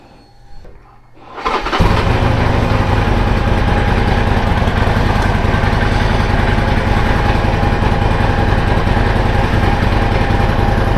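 A motorcycle engine cranks and catches after about a second and a half, then runs loud and steady at a close, rough idle with no talk.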